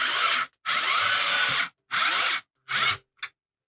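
Cordless electric screwdriver driving screws into a Nintendo GameCube console shell, four loud close whirring bursts of about a second each separated by short pauses, then a brief final blip.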